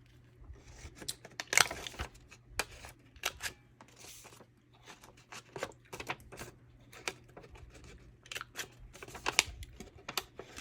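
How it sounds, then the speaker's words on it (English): Paper corners clipped one after another with a handheld corner rounder punch while making window ledger pockets, giving a string of sharp, close snips and crunches at an irregular pace over a low steady hum. "I'm going to just take my corner rounder and then snip these off really quick."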